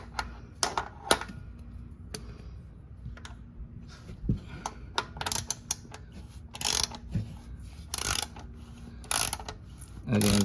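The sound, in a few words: tightening a new oil filter on a Toyota Highlander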